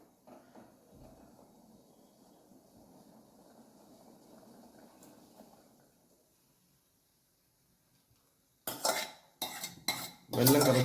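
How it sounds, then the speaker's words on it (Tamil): Jaggery syrup gets stirred into a pot of moong dal payasam, Nagercoil style: soft, low swishing at first, then a pause, then loud metallic clanks and scrapes of a spoon against the pot, close up. "வெல்லம் கரைச்சி வச்சுப்பாக நம்ம சேர்த்துட்டோம். சேர்த்து லைட்டாக கிளறி விட்டுக்கலாம்."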